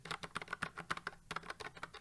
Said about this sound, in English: I think I got blue, Gatoron blue, but let me just give you a little sound test